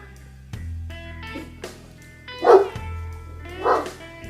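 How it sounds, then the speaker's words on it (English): A dog barks indoors in a few separate bursts, two of them louder and closer, along with a low steady hum and some small household noises. "Okay, dog's barking."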